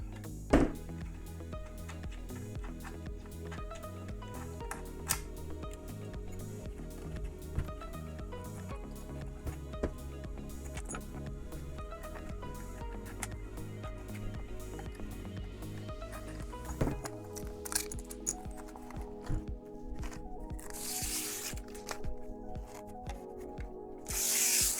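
Someone takes apart windscreen brackets on a CRF 300 Rally with a 5mm Allen key, making quiet close clicks, taps and plastic rattles in a sparse, irregular pattern.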